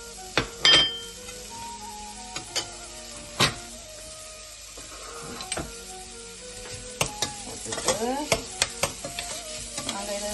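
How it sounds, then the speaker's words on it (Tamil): Onions frying in hot oil for a crab curry, a crackling sizzle punctuated by sharp metallic clinks and scraping strokes of a spoon stirring in the pan, close and uneven in rhythm. "இப்போ எண்ணெய் வந்து சூடேறிட்டு தேவையான அளவு வெங்காயம் போடுவோம்"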